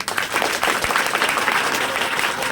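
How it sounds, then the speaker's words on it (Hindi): A crowded audience at a Teacher's Day 2024 school event breaks into loud, sustained applause, many hands clapping together steadily for the whole stretch. "एक बार चाहता हूं कि आप लोग जोरदार ताली लगाएं"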